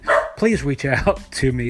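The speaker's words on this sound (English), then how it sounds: "Sorry for the dog bark." A dog gives a few short barks mixed into close, continuous speech from someone talking over it.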